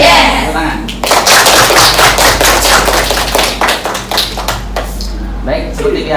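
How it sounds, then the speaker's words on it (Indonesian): A school class claps in unison on a teacher's cue: loud, close, rapid hand claps begin after a second of talk, fade toward the end, and voices are heard over them. "Tepuk tangan."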